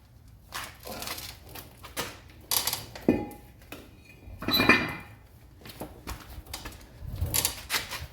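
Brake rotor being pulled off the hub of a Jeep JK Wrangler, giving a string of close, sharp metallic clinks and clanks with handling noise between them.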